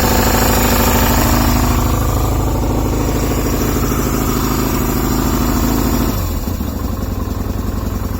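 A 1998 Yamaha Virago 125 motorcycle engine runs close and loud, a steady throbbing idle that drops noticeably in pitch and intensity toward the end.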